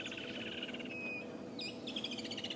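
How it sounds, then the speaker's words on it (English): Woodland kingfishers chirp in the bush at sunrise on a safari, with repeated rapid trilling calls and a few sharp whistles over faint background ambience, all quiet and somewhat distant. "The Woodland's kingfishers are all chirping away."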